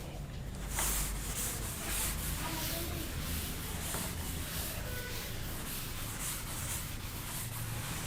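A classroom board being wiped clean of written matrix work, a steady soft rubbing hiss that continues evenly throughout, heard close with no speech.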